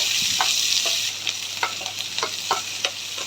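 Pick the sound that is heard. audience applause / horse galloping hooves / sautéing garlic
sautéing garlic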